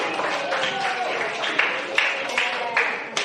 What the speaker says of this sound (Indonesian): Tepuk tangan untuk Diki.